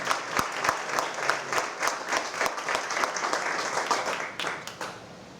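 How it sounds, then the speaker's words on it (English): An audience claps steadily at a post office renaming dedication in Hazel Park, a full round of applause with sharp individual claps, fading slightly toward the end. "Let's give a round of applause for just the thought of what's going on."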